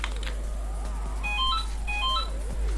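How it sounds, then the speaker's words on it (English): A house telephone rings in two short warbling bursts, fairly loud and clear over a steady low hum, with no talking. "Phone's ringing."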